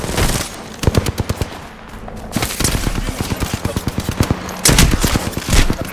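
Apex Legends gunfire comes as rapid, loud automatic bursts of sharp, evenly spaced shots, close and punchy, broken by brief pauses.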